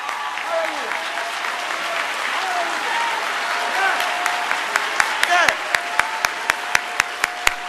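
A church congregation gives a standing ovation during a sermon, with sustained crowd applause that turns into rhythmic unison clapping near the end, under shouting voices and music.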